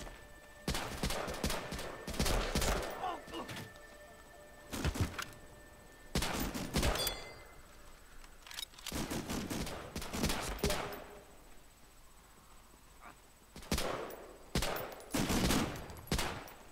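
Rapid M1 rifle gunfire in an Xbox shooter game: loud bursts of repeated shots come in clusters separated by short gaps, clear and close throughout.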